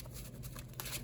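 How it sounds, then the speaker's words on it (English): Playing cards are shuffled close up, a quick papery rustle and riffle lasting about a second, with no one speaking. "Shuffle up"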